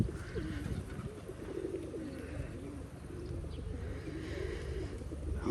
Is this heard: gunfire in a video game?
no